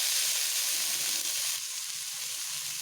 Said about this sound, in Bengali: এবার এটাকে একটু ভালোভাবে ভেজে নেব।